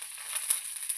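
Curry leaves, urad dal and fenugreek seeds sizzle in hot oil for a tempering in a home kitchen, a bright, steady crackling hiss with small spits and pops, close and fairly quiet.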